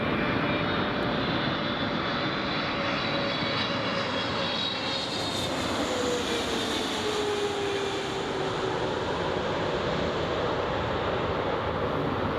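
A SAUDIA Airlines Boeing 777 lands at Newcastle International Airport, its jet engines roaring loud and steady throughout with a descending whine, a passing metro train rumbling beneath.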